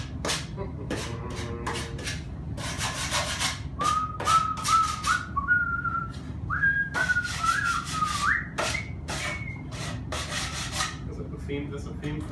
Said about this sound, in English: Let's sand this a bit.